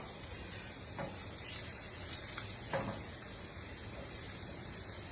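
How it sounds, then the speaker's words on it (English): Garlic cloves sizzle in browning butter for brown butter with sage, a steady soft frying hiss with a couple of faint stir clicks, close and fairly quiet with no voices. "Okay, our butter is browning nicely. So to that, I'm adding 2 cloves of garlic."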